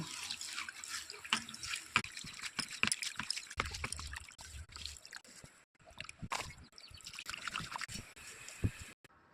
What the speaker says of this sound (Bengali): কারি পাতা ভালো করে ধুয়ে নেব।